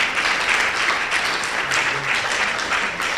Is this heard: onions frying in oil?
no